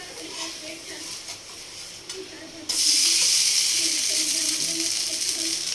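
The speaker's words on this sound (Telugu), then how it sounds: "అల్లం వెల్లిపాయ పేస్ట్ రెండు స్పూన్లు కూడా వేసుకొని పచ్చివాసన పోయేంత వరకు లో ఫ్లేమ్లో పెట్టుకొని వేపుకోవాలండి" Ginger garlic paste frying over a low flame in a pot for mutton curry gives a steady close hiss and sizzle that jumps louder partway through, with faint stirring scrapes underneath.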